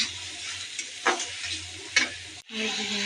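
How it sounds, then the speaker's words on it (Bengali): Chopped onions and green chilies fry in oil, a close, continuous sizzle broken by a few stirring scrapes, briefly cutting out and then returning; no talking is heard. "পেঁয়াজ কাঁচামরিচ ভেজে নিচ্ছি"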